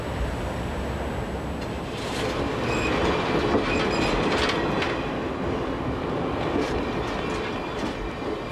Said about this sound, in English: We took the overnight train to North America's jewel of historic treasures, Quebec City.